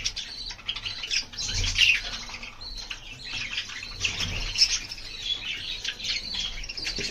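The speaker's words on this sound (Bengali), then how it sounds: "বেবিগুলো কিচিরমিচির করতেছে" Baby birds chirping excitedly while being fed, a flurry of high, fast tweets and squawks in bursts close by, with a quiet background.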